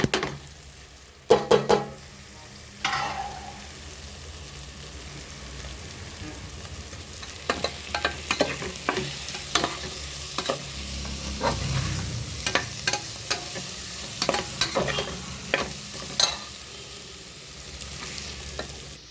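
Potatoes stirred and fried in a pan with curry leaves and chilli powder for a potato stir-fry, giving a steady sizzle broken by repeated scraping stirs throughout, with no talking.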